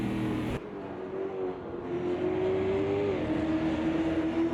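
Toyota Corolla race cars from 2020 roar along a PC racing game track, engines holding a steady droning pitch that rises and shifts as cars pass close by, loud and continuous with no talking.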